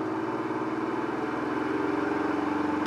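A Honda Shadow 125 motorcycle engine runs steadily with the choke on, given just a touch of throttle so the revs lift slightly, close and continuous with no talking.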